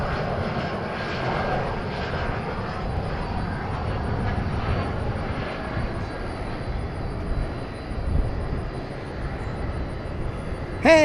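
A heavy aircraft at a busy airport at night, its broad engine roar rumbling steadily and heard from a distance for the whole stretch, swelling slightly near the end.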